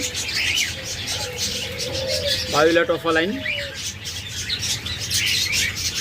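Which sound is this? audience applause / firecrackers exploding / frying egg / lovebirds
lovebirds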